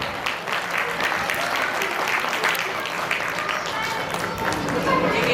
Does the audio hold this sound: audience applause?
yes